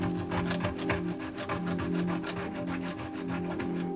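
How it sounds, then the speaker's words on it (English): A hand saw rasps through the metal mounting nut of a garbage disposal under a sink, a steady, loud, close back-and-forth grinding with quick, even strokes and no pauses. "And you just cut through here until you get through the nut."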